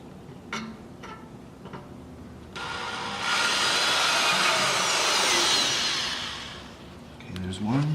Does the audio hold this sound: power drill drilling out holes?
yes